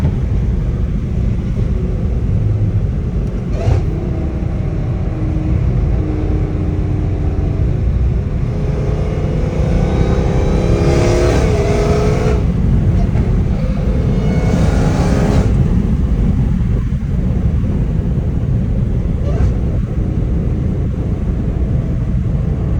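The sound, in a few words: Dodge Hellcat Redeye accelerating and shifting gears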